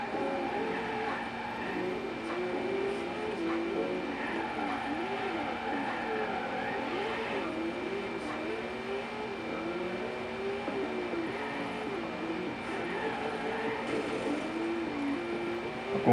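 A car drifting in a racing video game: a steady, fairly loud engine whine that wavers up and down through the slides, running continuously for about sixteen seconds with no clear speech.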